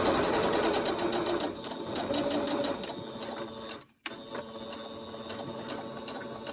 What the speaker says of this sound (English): Now that we have that gap there, we can keep sewing.